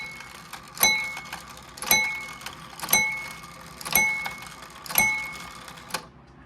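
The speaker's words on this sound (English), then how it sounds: "So the chime works." Five evenly spaced, ringing strikes from an 1830s Ephraim Downs pillar-and-splat wooden-works shelf clock, each a sharp metallic bell tone with a clear decaying ring, close and fairly loud, followed by a softer mechanical click.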